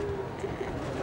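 Pigeons cooing in a loft in Abbassia, Cairo: a soft, continuous low cooing murmur from several birds nearby, steady throughout the brief moment with no talk.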